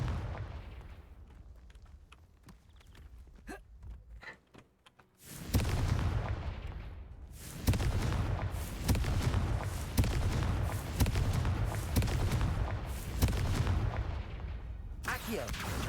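Confringo fire spell explosions in Hogwarts Legacy burst in loud, dense booming rumbles, coming in repeated heavy blasts one after another after a quieter stretch of softer game sounds.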